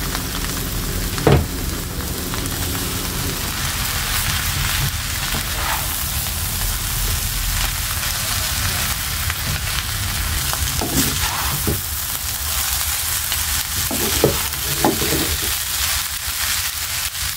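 Noodles stir-frying in a pan with lightly fried vegetables and shrimp, a steady loud sizzle with occasional scrape and clatter of stirring, no talking.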